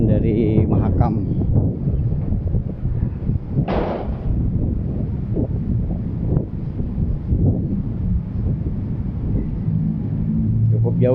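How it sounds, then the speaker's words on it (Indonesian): Gusty wind from the Mahakam river in Samarinda rumbles steadily against the microphone, loud and continuous, with a person talking briefly over it. "Angin dari Mahakam."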